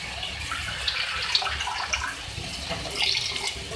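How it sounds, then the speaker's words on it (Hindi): Water poured into a pan of sautéed chicken and cauliflower while cooking, a steady splashing, gurgling stream that runs close and moderately loud throughout with brief bright splashes, no talk. "अब मैं इसमें पानी ऐड करूँगी 2 कप"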